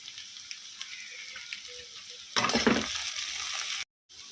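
Ground spice masala of coriander, cumin and cinnamon sizzling in a hot pan for a homemade Telugu potato fry, a loud burst of frying and stirring that swells midway and then settles to a steady hiss.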